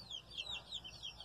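A hen clucks softly in short repeated calls with a steady rhythm, quiet and fairly near, in a calm outdoor yard with chicks around.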